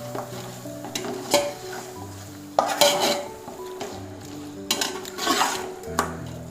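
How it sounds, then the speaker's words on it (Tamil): Tomatoes and green chilies for prawn biryani are stirred in a metal pot, with a few distinct scrapes and clinks of the utensil against the pan over a faint sizzle. "லேசாக வந்து ஒரு கிளறு மட்டும் கிளறிக்கலாம்."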